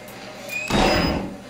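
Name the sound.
door closing in the video game Outlast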